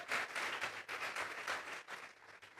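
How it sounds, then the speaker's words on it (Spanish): Church congregation clapping as an offering of applause to God during a sermon, a quiet but steady round of many hands clapping in a brief, even burst. "vamos a regalarle ofrenda de palmas al Dios de la gloria."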